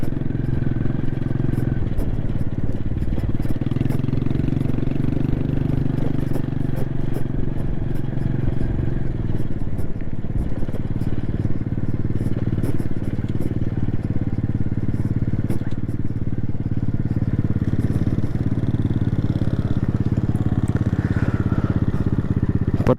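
Motorcycle riding a rough, uneven stretch of road near cut rock on the Malir Expressway in Karachi, with a steady loud engine drone, rattling and scraping from the bumpy surface throughout.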